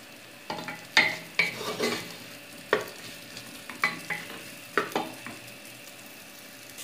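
Diced sausage sizzles in a pressure cooker for rice with sausage, with intermittent crackles and spits over a steady low hiss, close and moderately loud, with no talking.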